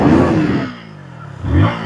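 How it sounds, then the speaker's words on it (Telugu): A KTM Duke 160 motorcycle engine revs loudly close by, dips to a lower idle, then rises again in a second rev. "ఇంజన్ సౌండ్ అయితే ఇది."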